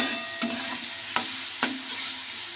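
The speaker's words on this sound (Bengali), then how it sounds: "এখন বসিয়েছি নিম বেগুন ভাজা বেগুনটাকে ছোটো ছোটো করে নিয়েছি" A steady gentle sizzle of eggplant and neem leaves frying, punctuated by three sharp scrapes of a spatula against the pan.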